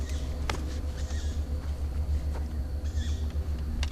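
Faint, high squeaky screeches flicker a few times over a steady deep rumble inside a dark, abandoned place, with no voices present.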